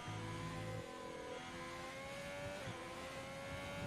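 Race car engine in a racing video game on an Italian circuit, a steady high droning whine that shifts pitch slightly as the car runs through a lap, continuous and even with no talking over it.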